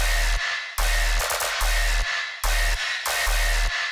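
Heavy tearout bass drop in which a deep sustained sub bass sits under layered, gritty distorted bass samples, hitting in loud rhythmic bursts with sharp gaps and choppy stutters between them.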